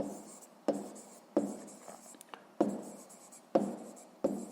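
A pen scratches out numbers by hand on paper for a sixth-grade maths exercise: five quick, close bursts of strokes, each a sharp scrape that tapers off, with brief pauses between them.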